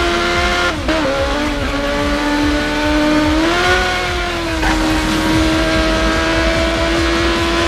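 A Krieger Uberschall 8 motorcycle boosting in the racing game Burnout Paradise Remastered gives off a loud, close, continuous engine roar, its pitch climbing, dipping and climbing again with a brief cut near the start, with no voices.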